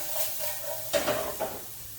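Half a small onion sizzles in a hot frying pan, a soft steady hiss with a few close scraping stir strokes partway through, no voices.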